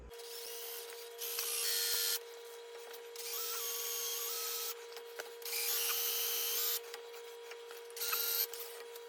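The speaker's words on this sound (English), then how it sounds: "Well, we were drilling, that's for sure." A power drill with a left-handed bit whirs in four sustained bursts separated by short pauses, fairly loud and close, with a steady hum underneath, while working on an old John Deere 450 dozer.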